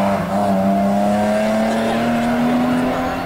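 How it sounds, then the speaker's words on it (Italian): A rally car speeds past at a Dutch rally event, a loud, steady engine roar with a rising pitch as it passes close by, held throughout without a break. "Intanto vediamo sfrecciare Kobus, il vincitore di questa gara olandese"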